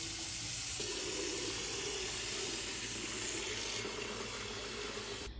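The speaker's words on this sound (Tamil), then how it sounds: "மேக்ஸிமம் லெவலுக்கு கிளீன் வாட்டர் ஃபில் பண்ணியாச்சு" Clean water pours from a tap into the tank of a Roborock Qrevo S robot vacuum and mop, a steady close rushing splash whose pitch shifts slightly as the tank fills, with no voices.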